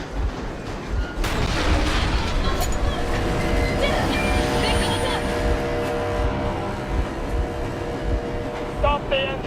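A Metro Exodus train locomotive engine runs loud and continuous, a dense rumbling roar with metallic clanks and rattles, and voices come through over it.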